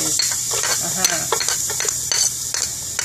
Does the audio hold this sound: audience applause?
no